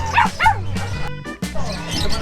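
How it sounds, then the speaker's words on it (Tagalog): Dogs bark and yip in short bursts, several close barks overlapping with crowd voices nearby. "Mga aso po."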